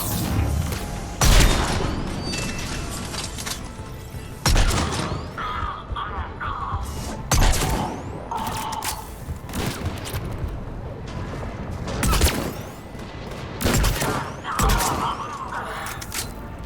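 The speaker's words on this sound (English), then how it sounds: "Those cannons have to be stopped." Heavy booming cannon blasts and bursts of gunfire recur every few seconds in Mass Effect 3 Legendary Edition amid a loud, busy mechanical clatter, with rumbling impacts between the shots.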